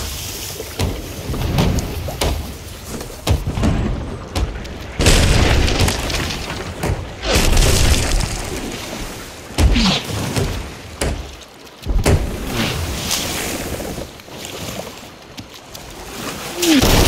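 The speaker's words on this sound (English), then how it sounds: "Four shots, four hits on the mast." Cannon shots in the Sea of Thieves video game striking a ship's mast, heard as heavy booming impacts in irregular bursts over rolling water and creaking wood.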